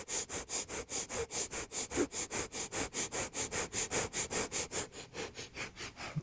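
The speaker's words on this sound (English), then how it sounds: "begin a breath of fire again" Kundalini yoga breath of fire: rapid, rhythmic nasal breathing with quick, evenly spaced sniffing pulses, close and fairly quiet, running steadily without talk.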